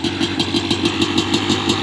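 A freshly rebuilt Kawasaki KX250 two-stroke with a Pro X piston and replated cylinder idles roughly in cold weather, a loud close, uneven burbling pulse with a rapid throbbing rhythm and no talk.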